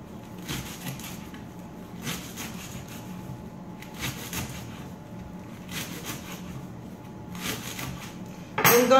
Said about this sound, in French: Puis on commence par les poireaux. Donc on va les couper en petits et les laver.